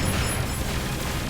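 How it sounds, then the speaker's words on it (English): Explosions in a shoot-em-up video game roar as a dense, continuous wall of overlapping bursts and crackling booms, loud and steady throughout with no voices. "I just saw explosions."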